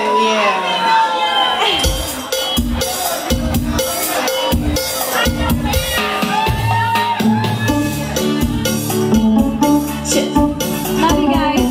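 A concert crowd at a Cambodian music tour show in Long Beach cheers, shouts and claps loudly and continuously, with many excited voices, some high and childlike, rising in bursts throughout.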